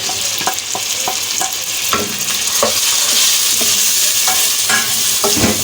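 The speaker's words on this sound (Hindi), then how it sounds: "अब मैं अपने ये टमाटर और ये हरी मिर्च जो है ये साथ ही डाल दूँगी इसके अंदर।" Tomatoes and green chilies go into onions frying in a pan, and a spoon stirs them with repeated clinks and scrapes over a strong, continuous sizzle, close and loud, with no talking.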